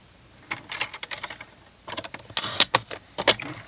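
A paper trimmer slices the edge off a piece of cardstock, a run of close, crisp clicks and scraping strokes in two bursts, the second louder and sharper, with no talking.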